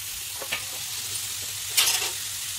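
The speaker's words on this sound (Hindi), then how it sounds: "अब इसको मैं धीमी आंच में फ्राई कर दूंगी तेल में।" Chopped mushrooms frying in oil over low heat, a steady soft sizzle with a few scraping stirs and a brighter burst of crackle near the end, close and alone without talk.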